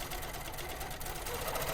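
A Handi Quilter Sweet 16 sewing machine stitching with a quilting foot and horizontal channel lock engaged, giving a steady, close, continuous whirring hum with a fast regular needle rhythm throughout.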